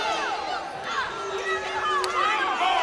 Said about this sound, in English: Hamilton with his 3rd foul draws a reaction from this Falcon crowd